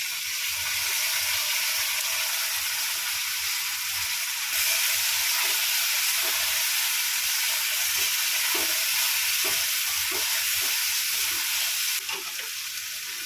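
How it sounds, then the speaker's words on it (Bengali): A ginger, chili and tomato paste fries for a fish curry, a loud continuous sizzle close by with occasional spoon scrapes and pops, no voices. "আদা লঙ্কা টমেটো পেস্ট করে রেখেছিলাম, আমি এটা দিয়ে কষিয়ে নেব।"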